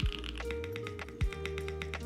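Keystrokes on a Think 6.5 mechanical keyboard with a polycarbonate case, a quick run of close, crisp clacks at a steady typing rhythm, with no talking.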